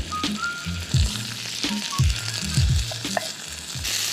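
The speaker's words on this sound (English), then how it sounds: "Stir that around a little bit." Seasoned shrimp and steak for surf and turf sizzle on a hot grill while being stirred, with repeated scraping and clinking strokes over a steady frying hiss; no talking.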